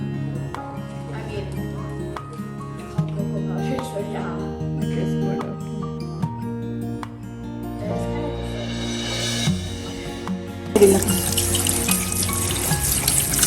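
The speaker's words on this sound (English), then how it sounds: "So I'm washing the meat that we got from the market" Mutton bought from the market rinsed under a running kitchen tap, a continuous splash of water with clinks and handling sounds, and a burst of louder spray near the end.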